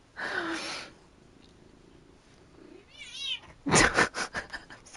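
A pet cat lets out a couple of sharp protesting meows, close and loud, then a longer wavering yowl, with bursts of indoor noise and brief rustling between.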